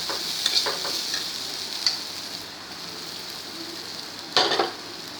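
Jackfruit seeds fry with cumin and chili powder while rongalao pumpkin leaves go in, giving a steady close sizzle broken by a few brief stirring scrapes.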